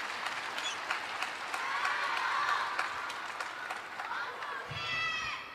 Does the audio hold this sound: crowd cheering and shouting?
yes